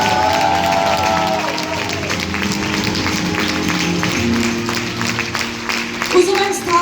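Festival audience applauding, a steady wash of clapping and crowd noise held at even loudness throughout, with a faint tonal background underneath.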